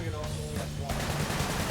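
Enemy gunfire in the action game Sunset Overdrive, a loud, continuous stretch of rapid shots and clatter with heavy low rumble over a busy game mix.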